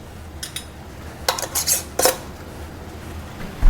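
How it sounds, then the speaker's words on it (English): Glass canning jars with lids and bands are handled and shifted about for loading into a canning rack, giving several clinking, clattering bursts of glass and metal close by, separated by quiet pauses, with no talking. "I'm just gonna get this out of the way so I can load up my canning rack"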